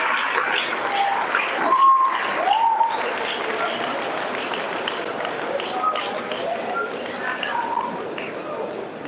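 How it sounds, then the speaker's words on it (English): An audience claps steadily for an award recipient at a scientific conference ceremony, applause filling the room at moderate distance with a faint voice or two over it and a few brief high tones. "Please clap for him."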